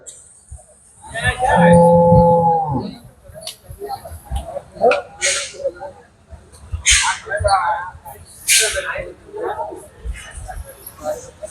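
A low, drawn-out cattle bellow rises early on, then busy crowd chatter and shuffling fill a noisy outdoor cattle market at Sarulia, Demra, where bulls are sold.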